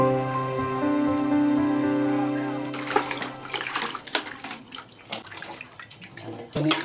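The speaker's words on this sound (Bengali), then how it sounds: "ভালো করে ধুয়ে নিচ্ছি সবজিগুলি।" Vegetables are rinsed in running water while cooking a traditional Bengali chakhoi dish; a steady tap stream splashes and gurgles close by, following a sustained tonal hum in the opening seconds.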